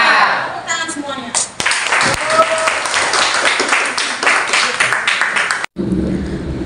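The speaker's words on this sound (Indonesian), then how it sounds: "tepuk tangan semuanya" Classroom students in a vocational computer-networking class burst into applause after brief voices, producing a busy, fairly loud clatter of many hands that cuts off abruptly near the end.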